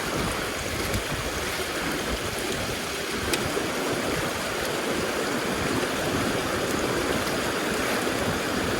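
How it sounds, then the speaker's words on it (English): Water sloshes and splashes steadily inside a Keene A52S gold concentrator, a continuous broadband wash of rushing water lasting several seconds, close and fairly loud with no talk. "I'm going to just splash some water in there."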